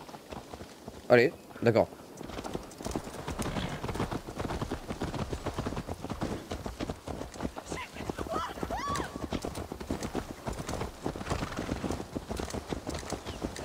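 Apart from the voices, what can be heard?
horse galloping in video game Assassin's Creed Valhalla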